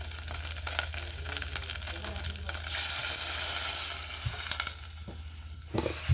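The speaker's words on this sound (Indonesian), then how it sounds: "Jadi kita masukkan airnya" Water poured into a hot sizzling pan while cooking soup, a steady loud hiss and bubbling that swells in the middle, with a few clanks near the end.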